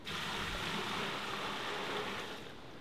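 Water pours steadily into a pot set up for rendering beeswax, a continuous broad rushing splash that holds for nearly three seconds before easing off, close and alone with no talk.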